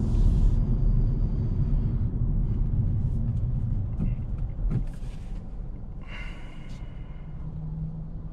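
A 2020 Kia Stonic 1.0 t-GDI drives with a steady low engine and road rumble, broken by brief shifts and clicks as gears change, heard from inside the cabin.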